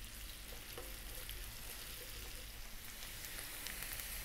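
Chopped onions and a tablespoon of garlic frying in a pan over medium heat, giving a steady, even sizzle with soft crackles throughout, alone with no talking.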